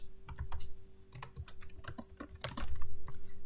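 Typing on a computer keyboard to enter text in Cricut design software: quick, irregular bursts of close, crisp key clicks with short pauses between them.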